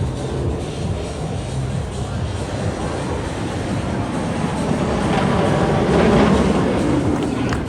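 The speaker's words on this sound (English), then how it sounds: "This right here is the final train Kingda Ka will ever send with people." The Kingda Ka roller coaster train at Six Flags Great Adventure runs along its track in a loud, continuous rumbling roar that swells toward the end, with a crowd murmuring beneath.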